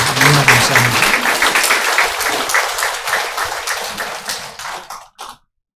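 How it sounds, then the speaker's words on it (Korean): A church congregation in Korea claps loudly to welcome a visiting member's mother, dense applause that thins and fades before stopping abruptly, followed by a brief last burst and silence. "큰 박수로 환영하도록 하겠습니다"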